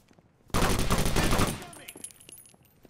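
Gunfire in the game Takedown: Red Sabre: a loud, roughly one-second burst of rapid automatic shots, close and dense, cutting off into fading echoes and faint scattered clatter.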